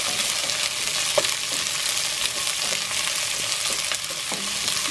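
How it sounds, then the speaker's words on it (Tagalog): Onion frying in a pan for pancit lomi, a steady loud close sizzle with occasional stirring scrapes and clinks throughout, no talking. "Then dito, ilalagay natin itong ating sibuyas."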